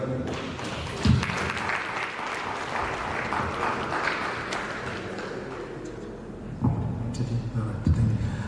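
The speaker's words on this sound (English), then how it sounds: "Round of applause, please." Audience applause at a telecom company's office launch in Limpopo, a steady wash of clapping lasting throughout, moderately close and dense, with a few louder claps and voices murmuring underneath toward the end.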